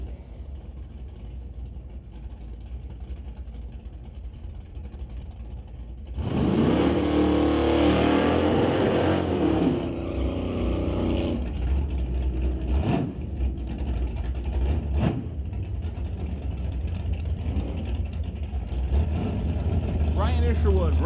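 Hot rod drag race cars, including a 1966 Plymouth, rev and accelerate loudly in a sudden roar that sustains and rumbles on, with an announcer talking over it throughout.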